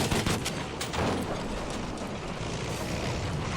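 Tank being shelled in Battlefield 5, a Panzer 38T under fire, dense crackling explosions and gunfire in a loud continuous barrage, no talking.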